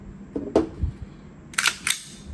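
A Tokyo Marui airsoft Glock pistol slide pulled and snapped back, a few close crisp clicks followed by two bright metallic clacks with a slight ringing metal edge, no voices.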